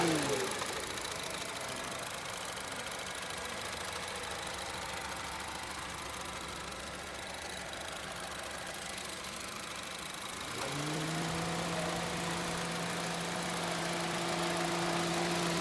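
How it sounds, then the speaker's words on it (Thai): A 2013 Honda City with a 1.5 VTEC engine idles steadily for about fifteen seconds, a smooth, quiet, constant hum that shifts to a slightly deeper, fuller drone partway through, with no voices over it. "ขนาดนี้ผมติดเครื่องยนต์อยู่นะครับ"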